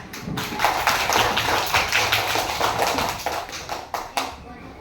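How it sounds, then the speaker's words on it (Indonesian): Children clap together in a classroom, a dense burst of taps running steadily for several seconds and then breaking into a few scattered final claps, with voices underneath. "tepuk tangan"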